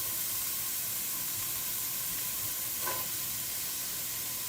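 Chopped onions hit a hot pan for chili and hiss in a steady, even sizzle, close and continuous with a brief brighter flare near the end.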